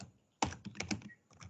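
After a moment of near silence, a short burst of close computer keyboard typing begins: quick, crisp key clicks in an uneven rhythm as code is entered.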